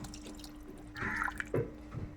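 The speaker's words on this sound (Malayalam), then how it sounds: "ഒരു നെല്ലിക്ക കഷ്ണത്തിലെ പുളി വെള്ളത്തിലിട്ട് പിഴിഞ്ഞാൽ നമുക്കിതിലേക്ക് ഒഴിക്കാം." Tamarind water is poured from a squeezed pulp into a mango curry in a clay pot, giving a few faint, brief splashes and drips in a quiet kitchen.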